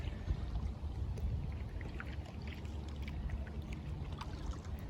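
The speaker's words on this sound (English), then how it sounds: "Kayaking the Huron River." A kayak glides along the Huron River, with soft, steady water wash and faint paddle splashes close by, under a constant low rumble and no talking.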